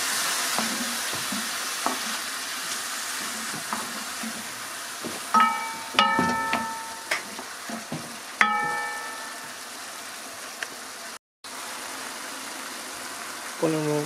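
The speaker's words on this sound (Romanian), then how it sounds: "Le sotăm bine." Mushrooms and rice sauté in a pan, with a soft steady sizzle broken by clinks and scrapes of a spoon against the pan as the mix is stirred, and a voice talking over parts of it.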